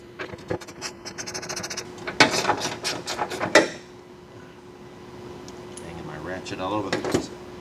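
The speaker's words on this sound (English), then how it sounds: "Ratchet all over the place." A ratchet clicks in quick bursts while the lock assembly comes off a 1986 Porsche 944 Turbo, with metallic rattles and scrapes close by and a voice talking now and then.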